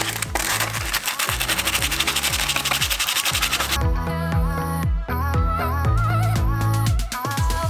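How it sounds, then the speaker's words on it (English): Hand sanding of surface rust on a van's bare metal body panel using 100 grit sandpaper, a continuous dense scratchy rubbing that stays loud and steady throughout, with no speech. "with your 100 grit sandpaper, you're just going to go over the top"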